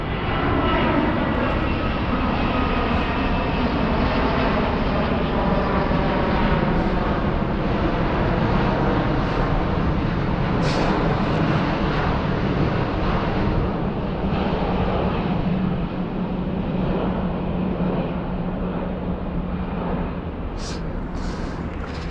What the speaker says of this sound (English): It's kind of insane that planes make all this sound.